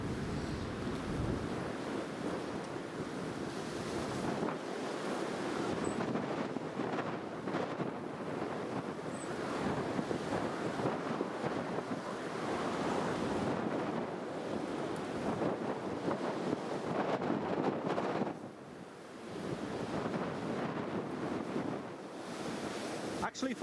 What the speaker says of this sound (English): There's the windsock fluttering in the wind.